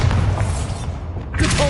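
A Bombarda explosion spell goes off in Hogwarts Legacy: a loud, dense blast with a deep booming low end that rumbles for over a second, then a fresh crackling burst near the end.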